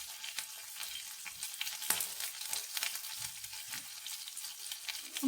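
Onion and curry leaves fry in oil in a home kitchen pan, a soft close sizzle with intermittent stirring scrapes and light clinks, fairly quiet and without speech.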